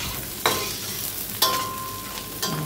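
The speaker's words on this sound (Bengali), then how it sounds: "পেঁয়াজটা ভাজা হচ্ছে, পেঁয়াজ, রসুন এবং গরম মশলার সাথে" Onion, garlic and garam masala frying in oil keep up a continuous sizzle, broken by three evenly spaced scrapes of a spatula stirring the pan.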